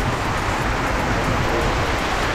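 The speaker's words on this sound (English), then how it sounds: "It's raining here, man." Heavy rain falling at the Malaba border crossing between Kenya and Uganda, a dense, steady broadband hiss with no breaks, close and loud, with no speech over it.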